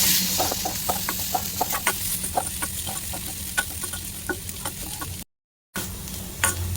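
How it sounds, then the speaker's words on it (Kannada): Fruit and vegetable peels fry in hot oil with a steady crackling sizzle and scattered popping bursts, close up, with a brief dropout of silence near the end and no voices. "ಅದನ್ನ ಒಂದು ಎಣ್ಣೆಲಿ ಒಂದು 2-3 ನಿಮಿಷ ಹಿಂಗೆ ತಾಳ್ಸಿದ್ರೆ ಸಾಕು"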